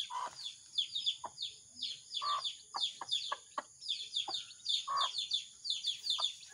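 Pet chicks chirp in a lively, continuous stream of high peeps, with occasional lower clucking calls from the hens mixed in at close range.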